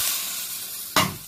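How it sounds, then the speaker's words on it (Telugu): Mustard seeds and cumin dropped into hot ghee for a pepper rasam tempering, a soft steady hiss that bursts into a sharp, louder sizzle near the end. "ఆవాలు, జీలకర్ర అనండి తిరగబాతకు వేస్తున్నాను."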